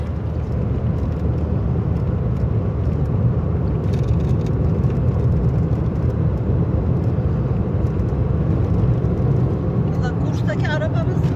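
A car engine and road noise carry on steadily from inside a moving car on a drive to a village, with voices heard over the continuous drone.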